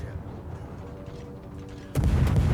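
Warship main guns fire in the naval combat game World of Warships, a sudden heavy boom bursting in near the end over a rumbling battle backdrop while a voice talks.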